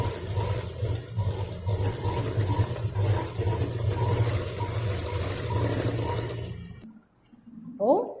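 A sewing machine runs in a steady, continuous hum while stitching a handbag, then stops, followed by a short quiet gap and a brief voice.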